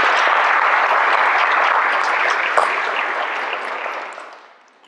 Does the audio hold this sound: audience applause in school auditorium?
yes